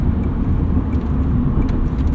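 A 1988 Honda Prelude Si with a 2-liter engine and automatic transmission hums steadily from inside the cabin while driving, a continuous low rumble with no talk.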